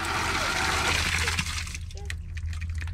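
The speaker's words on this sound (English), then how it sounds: "So just try and flush it a little bit." Water rushing through a sprinkler backflow preventer being flushed after a freeze repair, a steady loud hiss and gush that drops off midway into a quieter trickle with faint drips.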